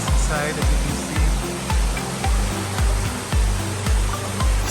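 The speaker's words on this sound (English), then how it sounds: "So this is the waterfall." Waterfall on black rock in a dense forest estate in the Western Ghats near Kanyakumari, a steady broad rush of falling water with a deep rumble, plus a regular series of low thumps in the background.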